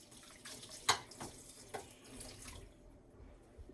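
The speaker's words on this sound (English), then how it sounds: "I'm just going to wash my spoon" A spoon rinsed under a running kitchen tap: steady water flow with a few clinks and splashes as the metal meets the stream, fairly close and moderately quiet.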